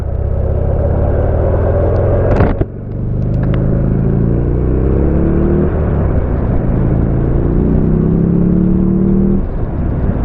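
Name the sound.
Buell motorcycle engine running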